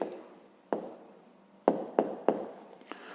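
A pen writes the answer to a fifth-grade math exercise on paper, making several short, close scratching strokes with small pauses between them.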